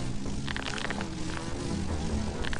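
Bees buzzing from a stolen hive in the video game Lethal Company, a continuous droning hum under a noisy background, with intermittent sharper buzzy bursts.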